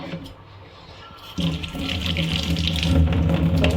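Tap water runs steadily into a sink, starting abruptly and splashing as ginger is rinsed under the stream, close and fairly loud.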